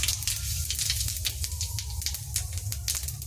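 Cumin seeds dropped into hot oil for a tempering, a dense crackling sizzle with sharp pops and spits scattered across a steady hiss, close and fairly loud, no voices.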